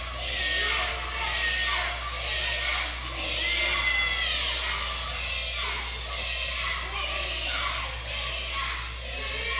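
Young crowd at an indie wrestling show shouting and jeering together, a dense continuous roar of many voices with shrill children's yells rising above it, loud and steady from start to finish.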